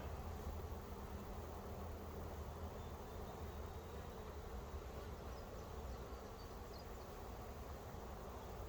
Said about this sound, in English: See, I'm putting my hands down in these bees, cutting them.